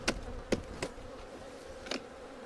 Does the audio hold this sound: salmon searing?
no